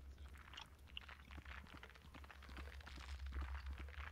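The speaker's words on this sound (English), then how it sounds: "It's bones everywhere, and just they break under your feet." Bones cracking and crunching underfoot in the horror video game Labyrinthine, a dense run of irregular brittle snaps and crunches at steady loudness, like footsteps over scattered bones, with no talking.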